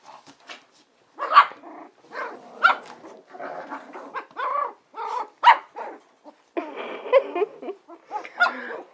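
Several puppies yap, bark and growl in quick irregular bursts, close and loud, with short snarly yelps overlapping one another and brief pauses between outbursts.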